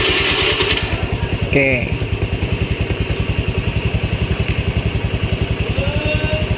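A motorcycle fitted with an M45OTO Android alarm, started automatically by remote, chugs in a loud, steady close idle with rapid even engine pulses, and a brief voice speaks partway through.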